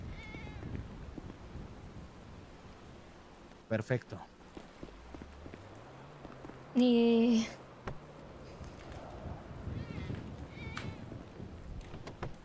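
A cat meows loudly once, a short drawn-out cry, while people talk quietly nearby and a car engine hums.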